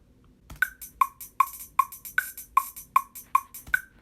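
A hi-hat roll pattern from a rap beat plays alone, a series of sharp, bright metallic ticks in a steady rhythm with quick doubled hits between the main strikes, crisp and close.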